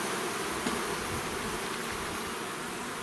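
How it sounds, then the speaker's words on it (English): Honey bees drone steadily inside an open, queenless hive, a dense continuous buzz close at hand with no pauses. "There's a lot of bees in here, which is exciting."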